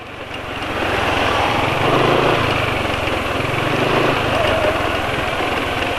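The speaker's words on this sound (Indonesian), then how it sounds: "perhatikan juga respon mesin ketika penulis lepas gas" A small engine runs loud and close, its throttle let off so it settles into a rough, steady churn.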